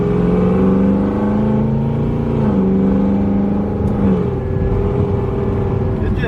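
A supercharged Chevrolet Camaro SS, custom built, idles loud and close with a steady deep rumble and a whirring supercharger whine. The engine pitch rises slightly and falls back as the throttle is lightly feathered.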